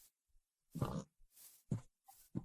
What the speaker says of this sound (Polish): I trzeba by świniaki zabić.